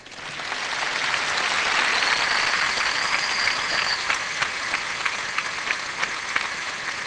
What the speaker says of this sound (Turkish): Büyük bir alkış lütfen.